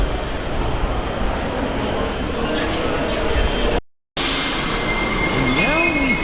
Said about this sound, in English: now we have an Uptown 1 train made up of all R62 cars on the opposite platform